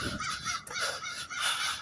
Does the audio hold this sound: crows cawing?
yes